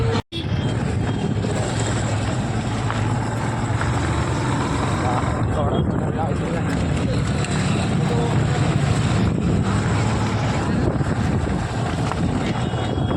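A boat ride on a lake around sunset, with a steady, loud rush of wind buffeting the microphone over engine and water noise for the whole stretch, and voices faintly mixed in.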